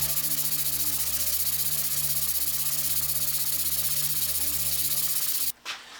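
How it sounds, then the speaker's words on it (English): The iron sole of a Defiance No. 3 hand plane is rubbed back and forth on sandpaper, a steady, rhythmic close-up scraping hiss in regular strokes that stops abruptly near the end with a clunk. "As I'm sanding, I can feel the plane actually riding on top of the dust, and it stops cutting"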